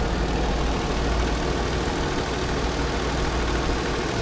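A 2018 Lexus RX 350's 3.5 L 2GR V6 engine idles with a steady, close, even rumble and hum, with no voices.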